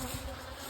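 Honey bees buzz around an open hive during rain, a dense, steady drone close up with a noisy wash over it and no voices.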